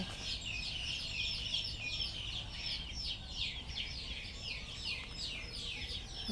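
Chickens cluck over and over at close range in a rural Thai garden. The calls are busy and overlapping and carry on without pause.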